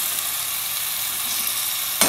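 Tomatoes with green chilli and spices sizzle in a frying pan while Punjabi chole is being cooked, a steady close hiss of frying that flares briefly near the end as more goes in.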